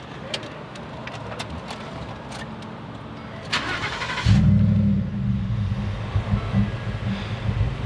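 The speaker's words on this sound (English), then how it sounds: "It'll start, and then it just dies." A Ford F150 truck with a suspected fuel pump fault cranks and catches, its engine starting loudly around the midpoint and running roughly before fading, after quieter ambient noise with a few clicks.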